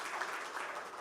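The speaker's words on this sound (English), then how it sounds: "they deserve a huge round of applause" Audience applause at a KTM 2024 valedictory function, a steady wash of many hands clapping, fairly faint and continuous throughout with no voices.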